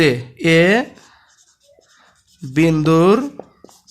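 Chalk or marker scratching on a classroom board during a physics lesson on the simple pendulum, faint scraping strokes in the pause between two stretches of a voice.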